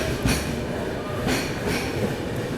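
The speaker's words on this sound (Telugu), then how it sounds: "ఈ సౌత్ ఈస్టర్న్ రైల్వే సంబంధించిన దురంతో ఎక్స్ప్రెస్" The 12246 Bangalore-Howrah Duronto Express rolls along with a steady rumbling roar heard from inside a coach, punctuated by periodic bursts of rail-joint clatter.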